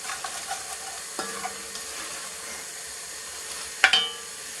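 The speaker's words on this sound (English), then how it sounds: "give it a good stir" Goulash being stirred in a pot, with a soft continuous scrape of the spoon against the pot and a faint sizzle underneath, a sharper clatter near the end, no talking.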